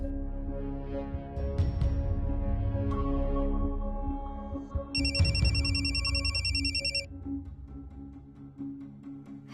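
A phone rings as an outgoing call is placed in a Marathi TV serial scene. A bright, steady electronic ring lasts about two seconds midway, over a sustained tonal background bed.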